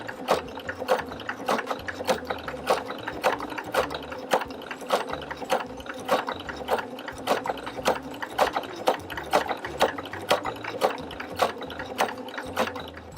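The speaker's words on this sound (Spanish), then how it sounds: "comenzamos a dar esta costura de zigzag" Sewing machine running a zigzag stitch to join fabric strips, a steady rhythmic clatter of needle strokes with regular ticking beats throughout, close and continuous.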